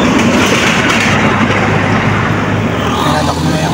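A tricycle's engine runs steadily in windy, drizzly weather, a dense, loud rumbling roar that holds constant throughout with no clear break.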